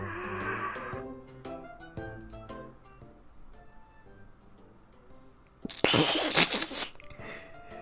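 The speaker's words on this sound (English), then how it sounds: "Achoo, says the box. The box sneezed?" A cat girl in the Nekopara visual novel sneezes from inside a box, one sharp loud burst of breathy noise near the end, following a stretch of soft background music and clicks.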